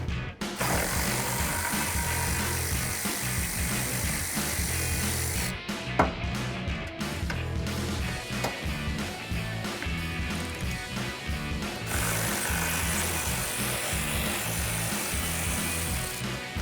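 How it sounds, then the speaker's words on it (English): A 12mm socket removing bolts from the rear bumper of a 2016-2023 Toyota Tacoma, heard as a steady close mechanical whirring and grinding that runs almost without a break, with a short sharp clank partway through. "I'm gonna use the same 12mm socket to remove them."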